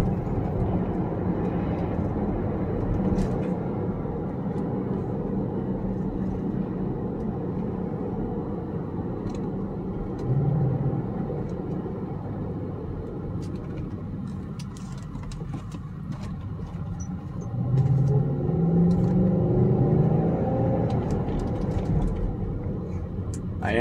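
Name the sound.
2003 BMW X5 4.6is engine running while driving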